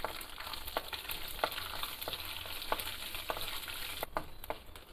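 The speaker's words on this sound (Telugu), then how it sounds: "ఇవన్నీ బాగా వేయించాలండి." Cumin, mustard seeds and urad dal frying in hot oil in a pan for tempering, a steady sizzle broken by sharp spoon clicks against the pan as they are stirred.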